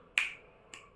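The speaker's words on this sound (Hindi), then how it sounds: "जैसे चुटकी बजाने वाला" Two crisp finger snaps, the first sharp and loud, the second softer about half a second later, in a quiet room with no talking.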